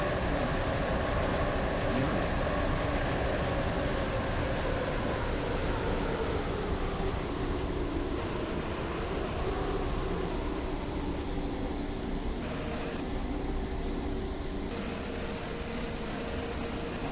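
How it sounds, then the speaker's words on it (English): Steady, loud rumble and hiss of a train running into James Street, its terminating station, a continuous roar with no voices heard. "This train is now approaching James Street."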